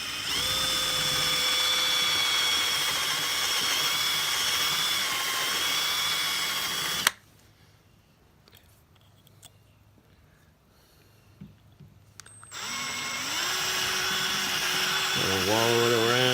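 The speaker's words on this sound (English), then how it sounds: "So I have to start with drilling out the rivets." A power drill whines loudly at high speed drilling out rivets on a Barcelona chair strap, stops for a few seconds of quiet handling noises, then starts up again, its pitch shifting under load.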